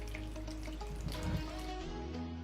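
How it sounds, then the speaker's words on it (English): Water is poured into a flat earth model, a quiet, continuous splashing trickle over a low steady hum. "I'm adding real water here."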